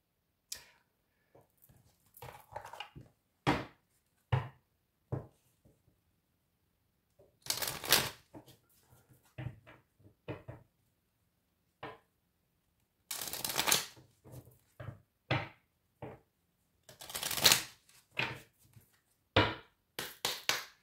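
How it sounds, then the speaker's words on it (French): A deck of witches' oracle cards shuffled by hand in quiet bursts, crisp close flicks and riffles in short clusters separated by silent gaps, with longer dense runs near the middle and end. "je vais prendre une dernière carte avec le petit oracle des sorcières"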